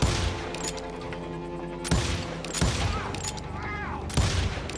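Gunfire in the Call of Juarez: Gunslinger game, with several sharp, loud revolver shots spaced irregularly over a street shootout, layered with mechanical clicks and a brief rising whistle-like tone.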